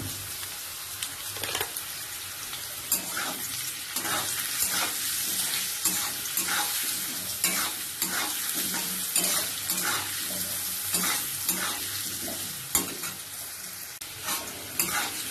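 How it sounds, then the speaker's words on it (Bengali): Ghati kochu taro and potatoes fry in a pan in steady oil sizzle with repeated stirring scrapes, close and continuous with no talking. "সুন্দর করে লাল লাল করে ভাজা হয়ে গেছে গাটি কচু আর আলু"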